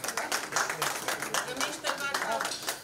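Audience applause for a lyricist at an Urdu poetry album launch, a steady wash of clapping that continues evenly from start to end.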